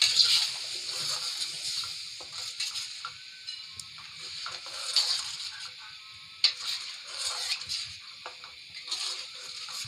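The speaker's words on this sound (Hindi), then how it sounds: "अब ये उबलना शुरू हो गया है।" Steady bubbling and soft popping of liquid simmering in a pot, a continuous close hiss with occasional louder pops.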